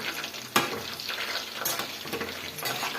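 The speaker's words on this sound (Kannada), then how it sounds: "ಈ ಥರ ಈ ಕಡೆ ನಾವು ಇವಾಗ ಫ್ರೈ ಮಾಡ್ಕೊಳ್ಳೋಣ" Chicken lollipops fry in a pan, with a steady close sizzle broken by a sharp clack of stirring and a few more scraping stirs, and no voices.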